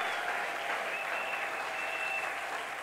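Church congregation applauding in praise of the Lord, a dense, sustained burst of clapping from many people filling the room, steady and loud throughout.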